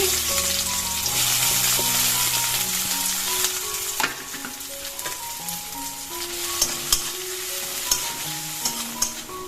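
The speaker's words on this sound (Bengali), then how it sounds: "পরিমাণ মতো একটু সর্ষের তেল গরম হয়ে যাওয়ার পর দেবো পেঁয়াজ কুচি" Chopped onions fry in hot mustard oil, a loud, steady sizzle close by with occasional sharp clicks of stirring toward the end.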